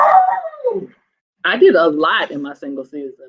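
A dog lets out a drawn-out whimpering whine, followed by short yips and barks mixed in with a person talking nearby, close and fairly loud.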